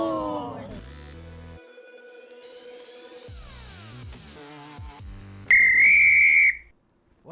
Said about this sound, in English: if that's the full-time whistle